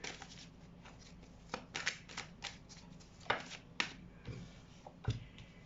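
A deck of playing cards is shuffled by hand close by, with a series of soft riffling bursts and sharp card snaps at an uneven rhythm over a quiet background.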